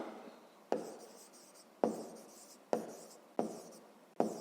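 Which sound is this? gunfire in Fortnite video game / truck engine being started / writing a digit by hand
writing a digit by hand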